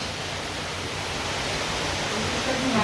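Torrential monsoon downpour in a Konkan village, a thick unbroken wash of rain that holds steady and grows slightly louder toward the end.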